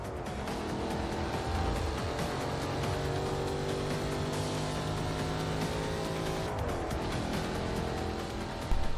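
Race car engine in Forza Motorsport on the final lap, a loud, continuous high-revving roar with shifting pitch and brief gear-change dips, alone without talk.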